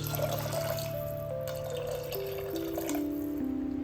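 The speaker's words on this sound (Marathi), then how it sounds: "आता यामध्ये आपल्याला घालायचंय आहे पाणी तर आपल्याला चवळी शिजवून घ्यायची आहे" Water is poured into a cooking pot of cowpeas, a soft, steady trickle whose pitch shifts in small steps as the vessel fills, heard alone at a low level.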